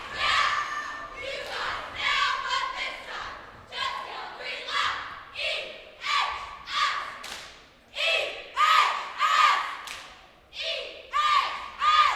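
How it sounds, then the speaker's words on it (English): Spectators at a competitive cheer semifinal shout and cheer in loud repeated bursts as routines land, with thumps from the squad's flips and pyramid stunts mixed in and some voices rising through the din. "The crowd loves that."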